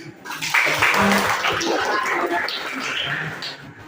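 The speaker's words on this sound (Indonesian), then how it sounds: "Sekali lagi tepuk tangan" A crowd claps steadily for a few seconds, a dense patter of hands mixed with scattered voices and cheers.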